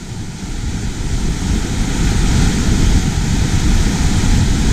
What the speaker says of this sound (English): The water rushing through is absolutely oppressive.